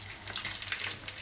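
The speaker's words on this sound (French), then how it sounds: "pour bien les faire frire" Food frying in a little oil in a pan, a brief, steady close sizzle with no voices.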